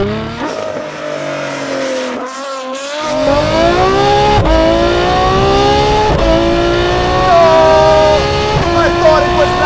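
Ferrari F12 with a Novitec exhaust and its valves open, revving loudly up and down with rising, wavering engine tones and a short lull before climbing again, close and dominant.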